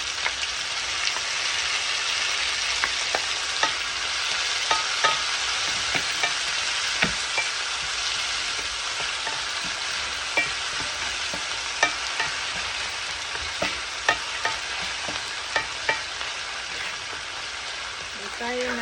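Onions fry in a pan for a side dish, giving a steady, even sizzle with occasional light taps and stirring clicks. It runs close and moderate in level, with no voices over it.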